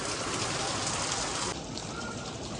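Rain falls steadily outside, a dense close hiss of drops on surfaces that eases slightly partway through but continues without pause.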